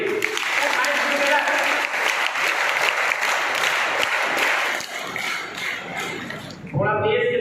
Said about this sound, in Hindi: थोड़ा तेज से तालियां बजाइए,